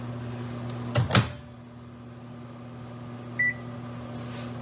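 A microwave oven runs with a steady electrical hum throughout, broken early by two knocks like the door or keypad and a single short beep partway through; no one speaks.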